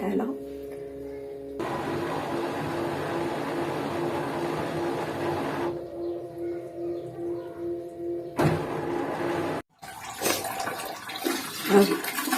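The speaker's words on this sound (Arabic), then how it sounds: "راه كنخوي عاوتاني هاد الماء، غنخويه باش عاوتاني نحط" Water drains and gushes out of a washing machine drum as the machine is cleaned of limescale and deposits. The rush shifts between steady flow and splashing, with a clunk and brief silence near the end and household noise throughout.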